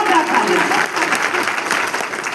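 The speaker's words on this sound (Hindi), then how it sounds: "अपने ये जोरदार तालियां" Loud applause from a rally crowd of Anganwadi workers in Muzaffarnagar, dense close clapping sustained throughout, with a voice faintly audible beneath.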